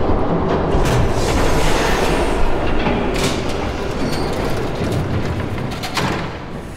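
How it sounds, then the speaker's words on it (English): A train rumbles past loudly and close in the video game Batman: Telltale, a steady roaring clatter of wheels on rails with occasional metallic squeals. "There's a train coming."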